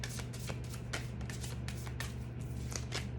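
Animal oracle cards being shuffled and drawn: rapid rhythmic riffling and flicking of card stock, close-up, over a steady low hum, with no voices.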